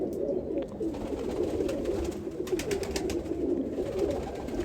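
A pigeon held in the hand, restless and struggling, gives a continuous low burbling coo close up, with steady rustling beneath it and no voices.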